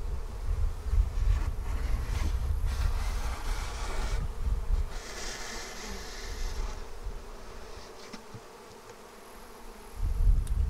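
A dense, continuous buzz of many honey bees swarming close by at a hive, loud and steady with some wind rumble.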